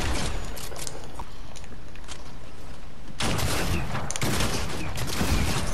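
Rapid automatic gunfire in a Fortnite match, dense bursts throughout, growing louder and heavier in the second half, close and continuous with no talk.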